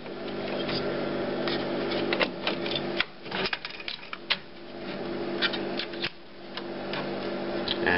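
Print head being seated into the carriage of an HP Designjet Z3200 large-format printer: a run of close, sharp plastic clicks and rattling taps, some in quick bursts, over a steady background hum, with no talking.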